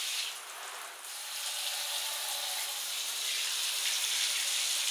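Water runs through newly installed plumbing lines in a shipping container home's master bathroom, a steady bright hissing rush that holds loud and constant throughout.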